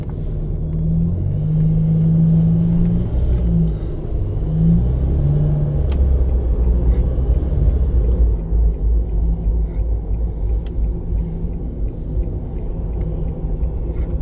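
Engine of a 2010 Nissan Cube running while the car drives on the road, a steady low rumble with some revving early on, continuous and close throughout.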